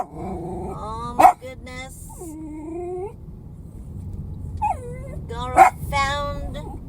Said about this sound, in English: found some dogs at the convenience store